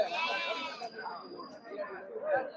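Goats bleating amid the busy Friday livestock market at Ettayapuram in Thoothukudi district, with calls rising over a steady crowd of chatter and haggling voices close by.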